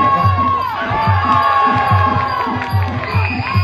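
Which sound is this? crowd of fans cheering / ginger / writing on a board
crowd of fans cheering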